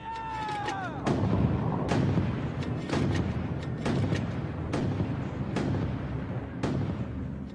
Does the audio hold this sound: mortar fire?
yes